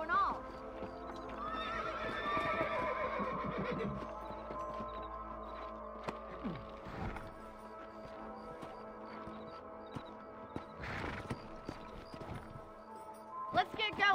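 Horses whinny and their hooves clip-clop in the Red Dead Redemption video game, with a neigh standing out early, steady galloping hoofbeats, and game voices talking over the scene.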